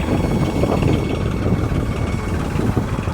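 A farm tractor running steadily while being loaded with manure in a field, a loud continuous low engine rumble close by with no clear breaks, no voices heard.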